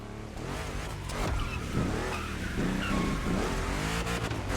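Car tires squeal and skid through a sustained drift in a gymkhana event in the racing game Forza Motorfest, with the engine roaring loudly underneath and the screech wavering in pitch throughout.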